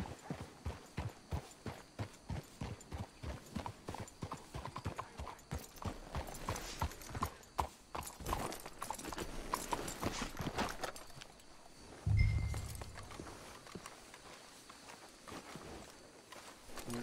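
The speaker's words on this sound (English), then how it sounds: "Let's hitch your horses up ahead." Horses' hooves clip-clop in Red Dead Redemption 2 in a steady walking rhythm, close by and fairly quiet, with a brief low thump and soft ambient game sounds near the end.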